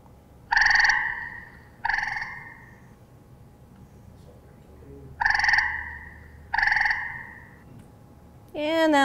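Four short, loud, nasal calls from a frog, spaced a second or two apart in pairs, with a brief rising squawk right at the end.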